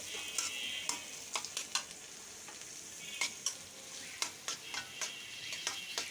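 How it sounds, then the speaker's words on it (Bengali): Meat cooking with spices in a pan, a faint steady sizzle broken by repeated sharp scraping clicks of a spoon stirring, fairly quiet and without voices. "তো এই মাংসটা বসাই দেই, মশলা কষিয়ে মাংস ছেড়ে দিব"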